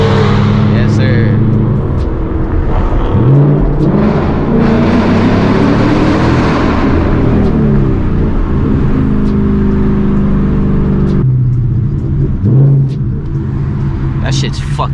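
Loud rumbling exhaust from a 2019 Ford Mustang GT fitted with stainless long-tube headers and a boiler muffler, revving and accelerating during a downtown cruise, with voices talking over the steady roar.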